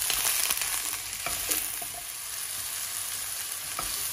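Mushrooms frying in butter in a pan for a broccoli and mushroom stir-fry, a dense, bright, continuous sizzle with a few crackling pops and occasional faint clinks, close and loud, with no one talking.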